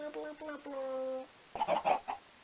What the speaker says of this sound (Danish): jeg har hørt en masse kyllinger der